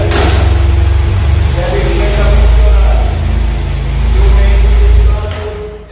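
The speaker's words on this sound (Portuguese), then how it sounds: "liguei a moto" A BMW F800GS motorcycle engine runs close by at a steady idle, a loud, dense low rumble that holds throughout and then drops away just before the end.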